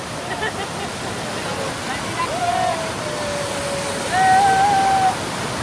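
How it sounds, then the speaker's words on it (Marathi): Bheli waterfall pours in a steady broadband rush, with faint voices and whistle-like tones now and then over the constant roar. "लिटरली शितू धबधब्याच्या खालून म्हणजे हा जो फ्लो आहे त्याच्या फ्लोच्या खालून जाऊन येतोय"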